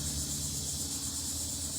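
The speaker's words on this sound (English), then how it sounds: "You hear that noise in the background? Those are called cicadas." Cicadas drone steadily in the background outdoors, a continuous high buzzing chorus that fills the whole stretch alongside a low ambient hum, with no talking.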